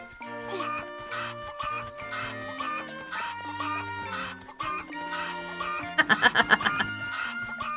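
Cuckoo chickens in Zelda: Echoes of Wisdom cluck in a quick rhythmic burst over steady, melodic game music, with softer fowl calls and jingles scattered earlier.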